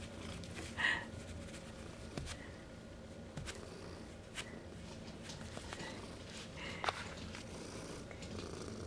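A cat purrs softly and steadily up close, with a few faint thumps and brief rustles over the low continuous rumble.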